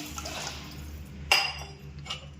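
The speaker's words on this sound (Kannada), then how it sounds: "ಗ್ಲಾಸ್ ಅಕ್ಕಿಗೆ ಎರಡು ಗ್ಲಾಸ್ ನೀರು ಹಾಕ್ತಾ ಇದ್ದೀನಿ" Water splashes and gurgles as it is poured from a glass into a pot of rice, with a short clink of the glass partway through; no talking.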